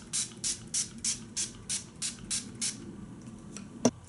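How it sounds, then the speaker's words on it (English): Urban Decay De-Slick Makeup Setting Spray mists in nine quick, even bursts, each a short airy hiss at a steady rhythm, close to the microphone, followed by a faint click. "setting my face with a setting spray"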